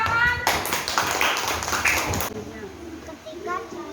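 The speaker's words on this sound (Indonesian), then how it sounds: "Beri tepuk tangan." A second-grade class claps together in a short, lively burst of about two seconds, with children's and a teacher's voices around it.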